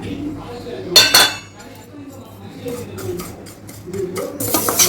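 Cumin seeds go into a frying pan of roasted curry leaves for curry leaf spice powder, with close metallic clinks of a spoon against the pan and scraping stirs in short bursts, no talking.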